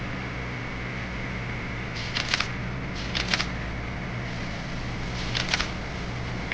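A marker scratches across a whiteboard in three short, separate bursts of strokes over a low steady room hum.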